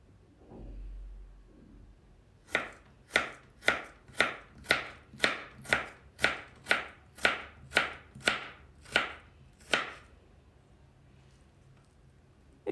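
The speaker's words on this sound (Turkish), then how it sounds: "Kesmiş olduğumuz dilimleri de tekrar böyle kibrit kalınlığında tekrar ince ince doğrayalım." Knife cutting potato slices into thin matchstick strips on a board, about fourteen sharp, evenly spaced chops in a steady rhythm, close and crisp with no talking.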